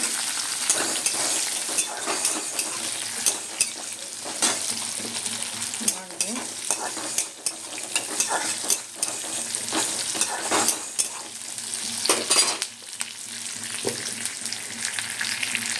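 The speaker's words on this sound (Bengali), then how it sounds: "সাদা জিরে, সামান্য পেঁয়াজ, ছোটো পেঁয়াজ একটা দিয়ে নাড়বো।" Cumin seeds and a small chopped onion frying in a pan, with a loud, steady sizzle and repeated scraping stirs of a spoon throughout, close and continuous.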